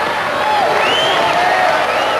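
Arena crowd at a Robot Wars UK Series 6 heat cheering and shouting in a steady, dense roar that holds loud and even throughout, with a few voices rising above the mass.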